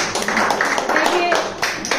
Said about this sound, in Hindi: तो सोनू जी के लिए भी बहुत जोरदार तालियां